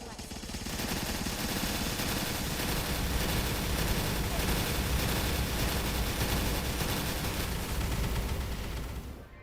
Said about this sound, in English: And now for the explosion.